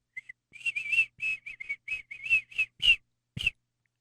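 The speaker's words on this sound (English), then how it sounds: "just do your whistle" A person whistles a quick run of about a dozen short, high, clear notes in an uneven rhythm, close and alone.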